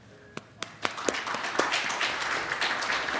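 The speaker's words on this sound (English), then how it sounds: "Please join me in a round warm applause for Colin" A conference audience at a Python tech talk begins applauding: a few separate sharp claps at first, then building into steady, moderately loud clapping from a room full of people.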